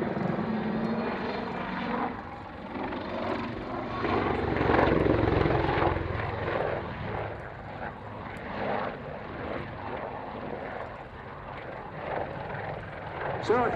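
A helicopter performing an airshow flying display, including a backflip, roars continuously at a distance, rotor and engine swelling and fading as it manoeuvres, with people talking over the noise.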